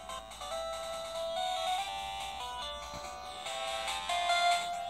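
Bright, bleepy chiptune melody from a Pokémon game on Game Boy Color, simple square-wave notes, played steadily and moderately loud with no voices.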